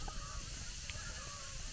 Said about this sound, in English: I just touched the steak to it and it sizzled